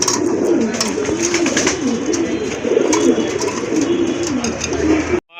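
Fancy and racing pigeons coo repeatedly in a loud, rolling chorus close at hand, a continuous throaty burble with some faint background noise.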